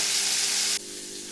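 Masala spices sizzle hissing in hot oil for a Bengali doi potol parwal curry, a steady bright fry that suddenly drops softer partway through, with no talking.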